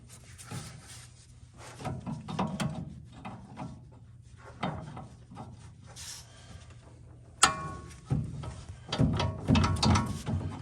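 A ratchet wrench clicking as it works on a bolt at the steering knuckle of a GMC Canyon during a wheel bearing job, close-up bursts of fast pawl clicks with metallic clunks and one sharp knock.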